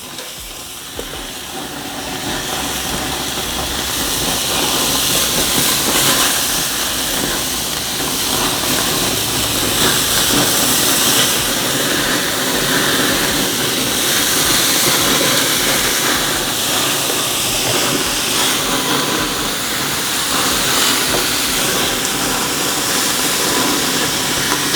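A Monument G22 stainless tabletop gas grill roars with a loud, steady burner hiss that runs unbroken for the whole stretch while carne asada cooks over the flame.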